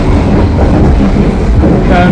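Inside the Tawang Jaya passenger train, a steady, loud rolling rumble of wheels on rails continues, with a voice speaking over it.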